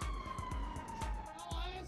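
An ambulance siren in GTA V wails steadily with a slowly falling tone, heard under rhythmic thumping impacts and background game noise.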